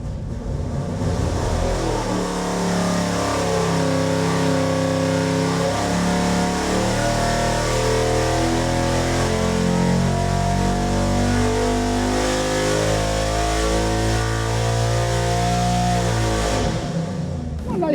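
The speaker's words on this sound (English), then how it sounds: "Nice engine." A race engine on a dyno revs hard and climbs steadily in pitch under load for a long sustained pull, loud and close, then drops off at the end.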